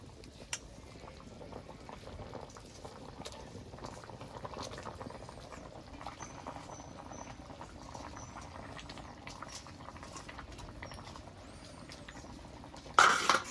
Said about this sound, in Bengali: জল দিয়ে দিয়েছি তরকারিটা একটু জাল হতে থাকবে